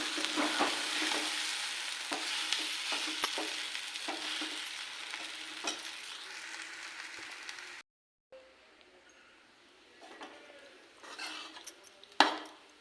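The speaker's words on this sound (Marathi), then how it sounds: "तर अजून 1-2 मिनटं आपण गॅसवर चांगलं परतून घेऊ।" Mokal alan is stirred and sautéed in a pan on a gas stove, giving a steady sizzle with scraping spoon strokes that stop partway, followed by quieter clinks and a sharp knock.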